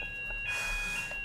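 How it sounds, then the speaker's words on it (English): A steady high-pitched electronic fire alarm tone sounds continuously, fairly faint and slightly distant, over a low background hum. "That's the fire alarm, which usually doesn't mean anything"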